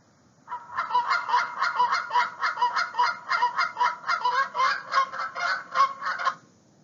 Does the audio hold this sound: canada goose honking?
yes